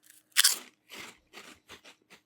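Potato ring snacks crunch in a loud first bite followed by several softer, evenly spaced chewing crunches, close to the mic with no talk.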